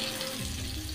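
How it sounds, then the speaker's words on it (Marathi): Pieces of halwa fish fry in hot oil with a steady, dense sizzle that runs through the whole second, close and fairly loud, with no voices. "अशा बाकीच्या तुकड्या आपण फ्राय करून घेऊया"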